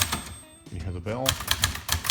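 A 1971 Brother Webster XL-747 typewriter's margin bell rings with a thin, lingering tone among sharp key clacks, while a voice talks nearby.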